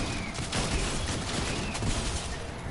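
Shotgun fire in a video game comes as a dense, loud burst of overlapping blasts that fills the whole short stretch, with no speech.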